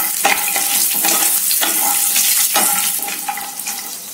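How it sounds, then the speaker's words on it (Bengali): Cashews fry in a spoonful of hot ghee in a pan, a loud close sizzle broken by repeated scraping strokes of a spoon stirring them, with no voices. "কাজু ভাজি দবা"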